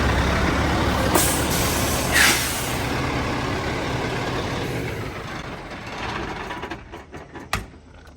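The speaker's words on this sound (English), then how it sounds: "Is that your first time driving the Freightliner?" Freightliner truck with an Eaton 10-speed transmission driving on a farm, a loud steady engine and road rumble, then an air brake hiss and a few sharp clunks as it slows near the end.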